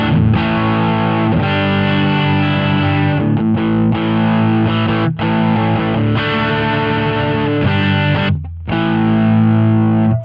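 Electric guitar through an Analog Alien Double Classic pedal with the compressor placed after the EQ, playing sustained, driven chords, loud, close and continuous, with brief gaps between phrases and no talk.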